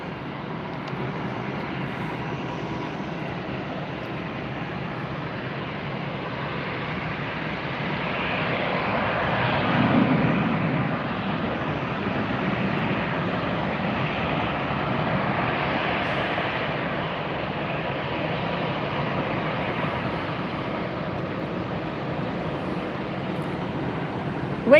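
Airbus airliner takes off at Tampa airport, a sustained distant jet roar that swells to a peak midway and then slowly eases while staying steady and broad.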